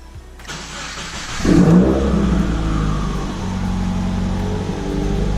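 A 2017 Subaru WRX with a new Optima Yellow Top battery cranks briefly, then fires and revs up before settling into a loud, steady idle.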